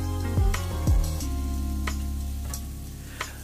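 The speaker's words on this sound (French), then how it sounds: "on va les saisir, on va les faire sauter, on va mélanger régulièrement pour les aider à ramollir." Steady sizzling from vegetables sautéing in a hot pan, with a few scraping stirs and light clinks over a constant low hum.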